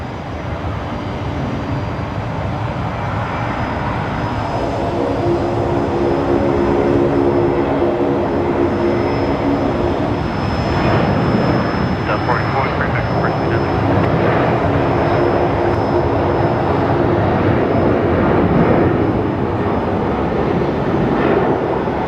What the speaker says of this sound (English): So you got two aircraft on the runway there.